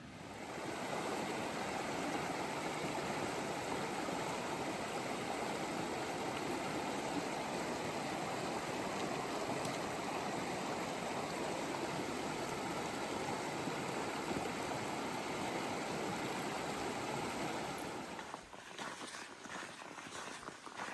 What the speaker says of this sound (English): still hear Whitney Creek off to the right